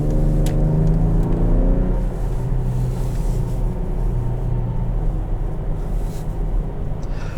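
A 2020 Lincoln Aviator Reserve engine pulls hard on a test drive, a loud steady drone that rises through the first couple of seconds, then settles into a sustained cabin rumble with road noise.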